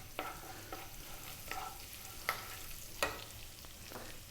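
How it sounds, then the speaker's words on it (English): Curry leaves and cumin seeds sizzle quietly in a hot pan while being stirred, with soft crackles, occasional scraping clicks and a faint steady frying hiss, no voices. "We're now going to drop in the curry leaves, which can be noisy sometimes."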